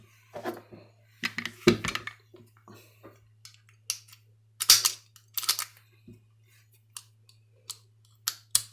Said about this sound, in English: if I pull back the slide, it will close